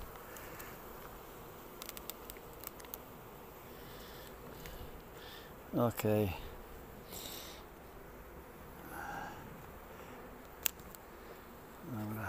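Bees buzz around a small hive frame, a low, steady hum that stays faint and close, with a person speaking briefly and a few soft knocks over it.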